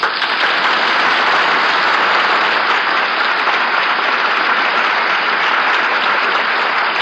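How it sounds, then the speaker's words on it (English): Studio audience applause on a 1949 radio drama broadcast, a thick, even wash of clapping holding at full volume for the whole stretch, with no voices. "Thanks so much for your applause"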